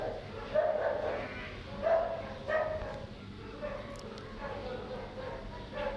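Several dogs bark repeatedly at a distance, a few yips rising over a steady background hum indoors.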